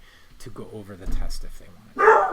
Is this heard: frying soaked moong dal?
no